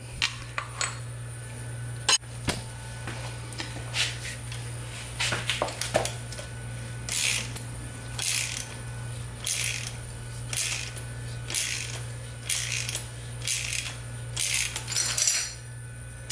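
A three-jaw puller drawing an old bearing race off a BMW E46 rear hub produces metallic clicks and ratcheting bursts in a steady rhythm over a low constant hum, close by.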